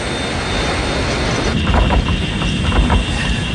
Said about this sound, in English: The most immediate was the disintegration of the number 3 engine nearest to the explosion.